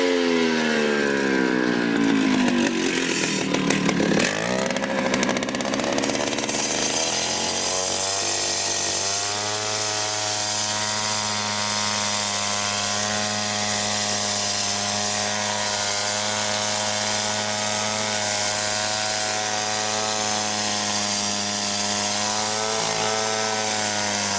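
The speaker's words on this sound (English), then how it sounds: "Dad is going to cut that with a saw now" A power saw cuts flagstone for a patio, its motor spooling up and then holding a loud, continuous, droning whine with steady harmonic tones for over twenty seconds.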